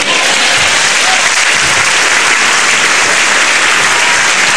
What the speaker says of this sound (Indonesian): Ya, itu tepuk tangan dulu.